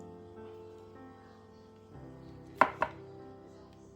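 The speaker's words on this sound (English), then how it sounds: "over here I'm just cutting my Thai eggplant" Knife slicing through a Thai eggplant on a cutting board, two sharp quick chops over a faint background hum, close and quiet.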